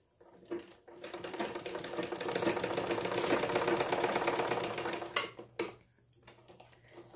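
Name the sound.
sewing machine stitching petticoat side seam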